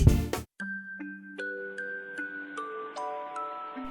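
A notification bell sound effect rings out as a bright chime after a short burst of sound, followed by a series of clear tinkling tones that ring and sustain in a rising, overlapping melody.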